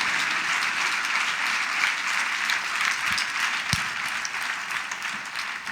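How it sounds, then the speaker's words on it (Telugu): A Sunday service congregation claps hard together, a thick, continuous roar of many hands filling the room at an even, loud level throughout. "చప్పట్లు కొట్టండి అందరు గట్టిగా"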